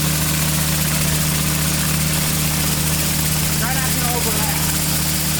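A big pressure washer driving a 48-inch surface cleaner with a 49.5-inch cleaning path across stone paving at the Martin Luther King, Jr. Memorial, a steady loud engine drone and spray roar, with people talking over it.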